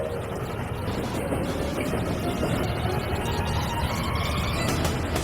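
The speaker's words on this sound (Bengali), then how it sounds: "নোলান, ট্রেনটাকে পাঠাও। ট্রেন আসছে।" A train approaches at an outdoor event staged for a large challenge, a broad, steady rumble with a rising whine that holds loud and continuous throughout, with no talk over it.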